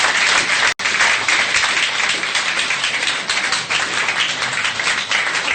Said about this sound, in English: So I think we all just should say a great big thank you to the cathedral and give them a round of applause.